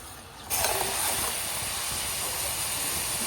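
Steady hissing sizzle of chickpeas (chana) deep-frying in hot oil, a broadband bubbling wash that rises sharply after a brief quieter start and then holds constant, close and alone.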